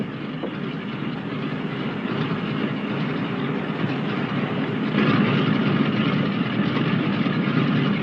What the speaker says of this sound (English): there she goes